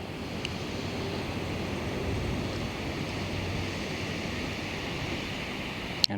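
Surf rolls onto Waikanae Beach as a steady, broad wash of waves mixed with wind noise on the microphone, continuous and moderately loud throughout, ending in a brief sharp knock.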